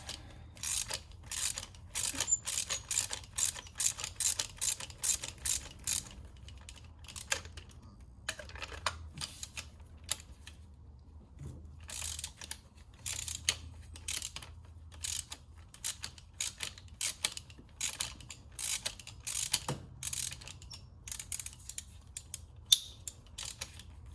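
A ratchet loosens the spark plugs on an Audi S3 8V engine, making bursts of rapid, close mechanical clicking that repeat throughout with short pauses between strokes.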